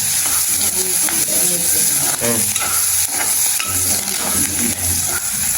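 Ingredients for a fish curry sautéing and being stirred in a pan, a loud continuous sizzle with scraping and clinking of the spatula over it, close and busy throughout.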